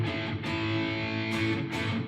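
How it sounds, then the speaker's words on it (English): An electric guitar played through a Quad Cortex with a heavy echo effect, sustained distorted chords ringing out while a couple of fresh strums cut in and repeat, with no voices. "lots of echo"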